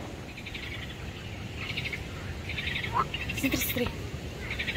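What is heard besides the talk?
frogs croaking in a pond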